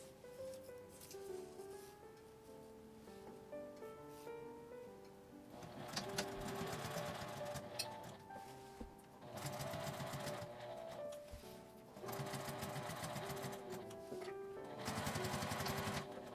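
Sewing machine stitching fabric for a small flap pouch, the lining kept out of the seam; short bursts of steady mechanical whirring come in several runs over quiet background music.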